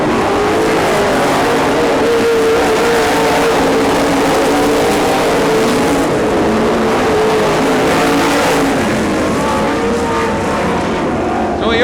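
Race cars running the final lap of a short-track feature, engines droning loud and steady throughout with a race announcer talking over them.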